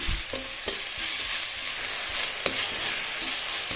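Onions and tomatoes with a little salt frying in a pan, stirred with a utensil that gives a few sharp scraping knocks over a continuous close sizzle, with no one speaking.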